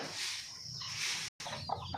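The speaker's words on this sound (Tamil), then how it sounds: "ஒரு தாய் கோழி ஒன்று ஒரு அஞ்சு குஞ்சோடு சுற்றிட்டு இருந்தாங்க" A mother hen wandering with about five chicks on a farm after rain, with soft clucks and faint chirps over steady outdoor background noise, a brief dropout, then a few clearer calls near the end.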